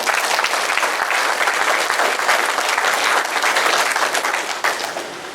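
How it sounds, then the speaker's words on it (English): A banquet crowd gives a sustained round of applause for a high school Hall of Fame inductee, thick and steady at close range, easing slightly near the end. "Let's have another round of applause for newest inductee"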